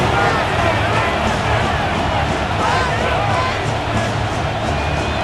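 A Madden NFL 26 stadium crowd roars in a dense, continuous wall of noise at a Saints versus Titans game, loud and steady for several seconds with no clear breaks.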